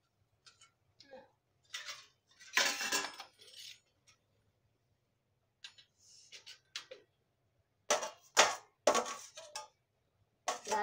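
Kitchen utensils and dishes clink and clatter in scattered bursts, with small tings and taps, closer clusters near the end and quiet gaps between.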